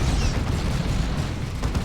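A Space Marine plasma cannon hits friendly troops in Dawn of War 2, heard as a dense, loud crackling roar of battle blasts and impacts that continues for about two seconds.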